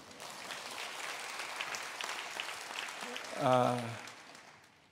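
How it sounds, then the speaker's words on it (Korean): A church congregation claps softly during a sermon, a faint, scattered patter of hands with a brief voice rising over it near the end. "그때는 박수 쳐도 되는 거예요."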